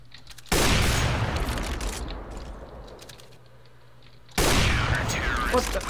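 Loud bursts of gunfire in CS:GO break out twice, a sharp volley at the start and another near the end, with a quieter stretch between them and players talking.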